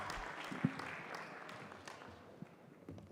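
An audience at a live event in a Grand Hyatt hall in Qatar claps in a brief, moderately loud burst that thins out. A sharp knock sounds near the start and faint voices are underneath.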